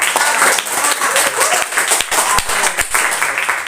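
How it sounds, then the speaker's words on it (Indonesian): Close, lively applause from a small audience for a group, sharp individual claps dense and loud across a few seconds. "tepuk tangan buat kelompok"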